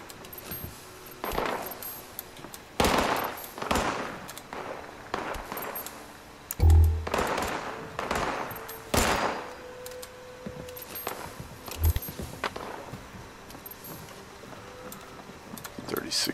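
An enemy shooting in a video game: sharp, scattered gunshot cracks in short bursts of two or three at irregular intervals, some loud and near, others lighter, over a steady hiss of game ambience.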